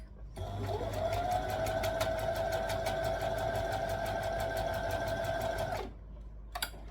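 Steady, close sewing machine whir runs for about five and a half seconds as a stitch is sewn along a knit tee, with a fast regular needle beat, then cuts off with a brief click.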